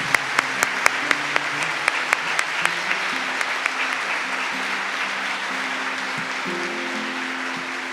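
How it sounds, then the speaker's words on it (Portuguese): Church congregation at a Catholic Mass applauds after the Gospel reading, a steady wash of clapping with sharp individual claps standing out, moderately distant, with faint sustained tones beneath. "Vamos aplaudir bem forte a palavra."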